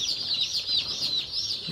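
Young chicks in a brooder, left unheated and without paper on the floor, keep up a dense, continuous high peeping chorus, close and fairly loud, with no talking.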